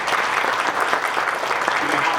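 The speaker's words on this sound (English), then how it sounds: "so a round of applause to you too" Graduation ceremony audience applauding staff and teachers, a continuous, even roar of clapping from a large crowd with no gaps.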